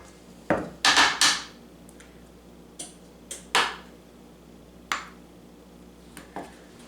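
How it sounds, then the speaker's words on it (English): Donut batter is spooned into a baking pan: a series of sharp, close metallic taps and scrapes, some clustered and some spaced apart, against a quiet room background with no talking. "The best way for me to do this is to spoon it on."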